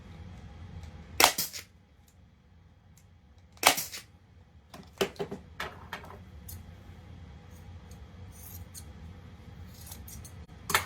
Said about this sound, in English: Fold that in, pull that tight, and then staple that down.